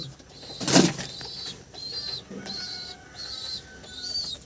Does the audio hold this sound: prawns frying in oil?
no